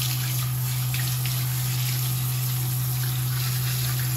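Water from a tap or sprayer runs steadily while rinsing a dog during a bath, a constant close rushing hiss accompanied by a strong low electrical hum throughout, with no talking.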